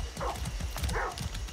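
In Far Cry 6, a horse's hooves clip-clop in a quick, even rhythm, close and fairly loud, with brief snorting bursts between the steps.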